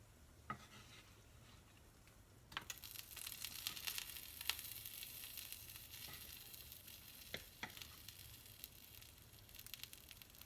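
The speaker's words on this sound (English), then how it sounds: "now I'm going to go ahead and add all my peppers" Peppers tipped into a hot pan for a garbanzo bean soup, bringing a sudden jump to a steady, broad sizzle that keeps hissing alone, with a few sharp clinks and stirring scrapes.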